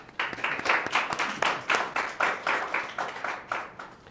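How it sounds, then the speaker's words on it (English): An audience at a talk on wearables and patient data claps in steady, even, close bursts that repeat for about four seconds with no voices over them. "So I guess round of applause for everyone who watches this."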